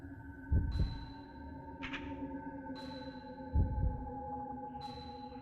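Two deep, low double thumps of a heartbeat from the video game Fatal Frame III, spaced about three seconds apart over a steady humming, eerie ambient drone with faint chime-like tones.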